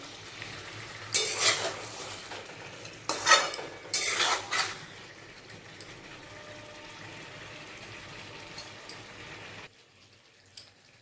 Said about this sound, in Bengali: এই দেখুন ভালোভাবে কষানো হয়ে গেছে